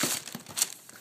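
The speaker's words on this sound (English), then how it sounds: "Let's unwrap this." Wrapping paper crinkling and rustling as a new pair of Nike Jordan Spizike shoes is unwrapped from the box, a few short close crumpling bursts in quick succession.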